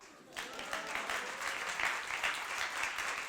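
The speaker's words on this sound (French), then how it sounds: "vous pouvez applaudir en attendant" An audience at a stand-up comedy show breaks into applause after a brief quiet moment, a lively crowd of clapping that swells and stays steady without talk.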